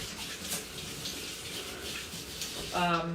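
Tap water running steadily for hand washing at a kitchen sink, a soft continuous splashing hiss, with a voice briefly starting to speak near the end.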